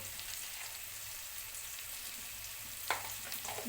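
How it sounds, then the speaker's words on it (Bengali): Capsicum with turmeric and salt frying in a pan, a quiet steady sizzle with a single scrape of stirring near the end. "দিয়ে আমি এটা নাড়ব আমি নেড়ে নিয়েছি নাড়া হয়ে গেছে"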